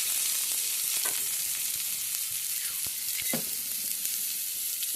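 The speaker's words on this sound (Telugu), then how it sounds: "ఆయిల్ వేడిగానే ఆనియన్స్ పచ్చిమిర్చి వేసేయండి." Onions and green chillies fry in hot oil for a chikkudukaya seeds curry, a loud, steady, bright sizzle with a few scraping stirs, close and unbroken throughout, without speech.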